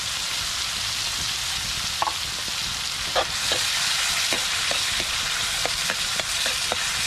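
Sweet potato (kamote) sautéing in a pan, a steady dense sizzle of frying throughout with occasional light clicks and taps of stirring.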